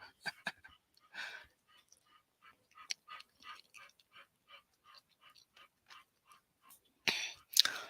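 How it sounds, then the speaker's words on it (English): A dog pants in the background during an art stream. Quick, faint, even breaths repeat steadily for several seconds, with a louder rustle or huff at the end. "I don't know if you can hear my dog panting in the background."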